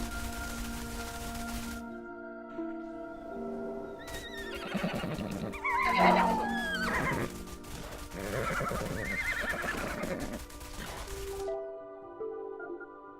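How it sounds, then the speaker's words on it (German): Horses in the video game Everything neigh and whinny in several drawn-out calls, with hoof clip-clops and a sustained musical drone beneath, fairly close and without talk. "Pferde, es gibt hier alles."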